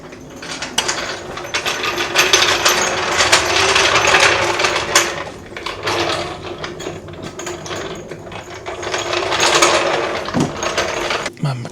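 A Makita power tool running in a cluttered garage, a loud steady mechanical ratcheting whir that surges and eases, close by and alone for most of the stretch.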